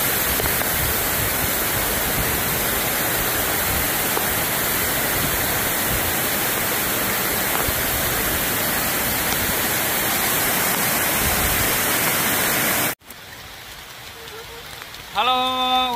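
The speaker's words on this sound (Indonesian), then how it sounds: "Inilah keindahan air terjun Madakaripura teman-teman." Madakaripura waterfall roars as a loud, steady broadband rush for most of the stretch, then cuts out abruptly, leaving a quieter background with a brief voice near the end.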